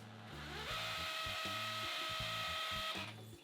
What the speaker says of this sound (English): I use the masonry bit and the hammer drill to extend the pilot hole into the concrete.